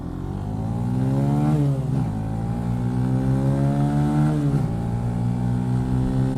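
A 2018 Benelli TNT 135 motorcycle engine revs up through the gears close by, pitch climbing then dropping at each shift, with two clear shifts and a sustained loud pull between them.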